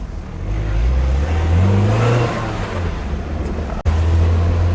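Engine of a third-generation Mazda MX-5 Miata NC pulling under acceleration, a loud droning tone that rises in pitch, drops briefly at a gear change, then resumes from inside the car.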